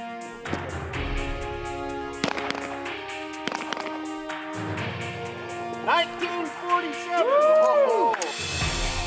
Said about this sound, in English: Region 2 wardens are doing annual qualifications with live rounds.